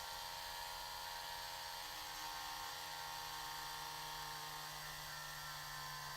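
A drill bit boring down the center of a plastic piece, a steady, continuous high-pitched whine that holds unbroken at close range with no talking.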